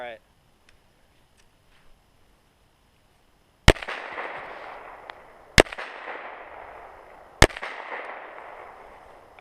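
Three loud, sharp gunshots spaced a couple of seconds apart, each with a short echoing tail, fired at improvised body armor built from tile and wood, outdoors with quiet between shots.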